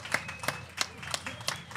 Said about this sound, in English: Another big round of applause for Phoenix Beer Co.